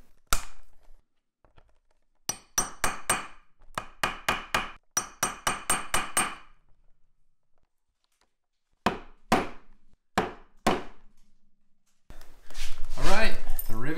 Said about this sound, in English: I'm gonna push all the rivets through from the top side and then carefully flip it all over and then do all the setting